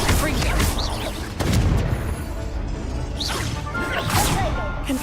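Fire spell casting in a wizarding action video game: repeated whooshing bursts and crackling blasts over a dense, loud combat backdrop, with voices mixed in.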